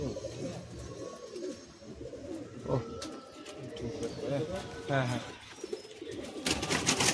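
Pigeons, including Madrasi pigeons, coo in low, repeated murmurs throughout a loft visit in Kharagpur, mixed with a busy background and someone talking over them.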